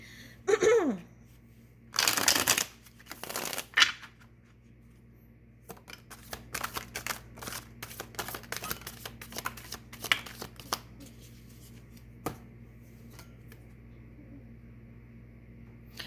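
Halloween tarot card deck being shuffled, several bursts of riffling and rustling close by, then a longer run of scattered soft card flicks and taps with quiet pauses between.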